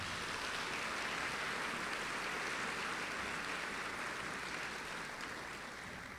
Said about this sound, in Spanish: Palmas para todos ellos, por favor.